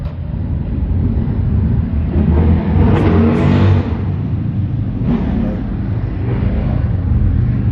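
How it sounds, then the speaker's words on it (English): A loud motorcycle engine roars nearby throughout, rising and swelling as it passes close by, then settling back to a steady rumble. "Sorry for all the motorcycle noise."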